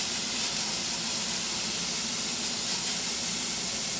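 Food sizzling in a hot pan while cooking carbonara: a dense, steady hiss that fills the whole stretch evenly, close and fairly loud with no voices.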